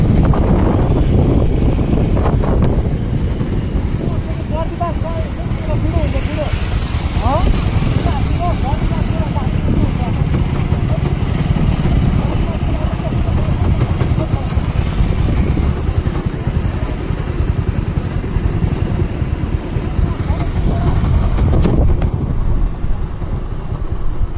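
A motorcycle riding on a road from Kathmandu toward Namobuddha, its engine giving a loud, continuous low rumble mixed with heavy wind buffeting on the microphone, with a person talking over it at times.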